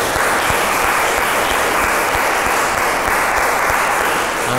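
An audience at a fashion careers panel applauds the panelists, a loud, steady burst of clapping from a crowded room that holds through the whole stretch.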